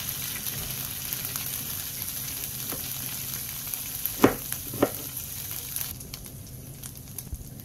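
Chicken browning on a tawa for a Punjabi tawa chicken gives a steady sizzle throughout, with a few sharper scrape-like bursts near the middle before the hiss quietens. No one speaks.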